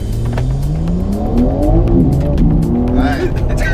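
A BMW M3 drifting, its engine revving up and down loudly and close with tires squealing, while people talk and cheer excitedly over the car.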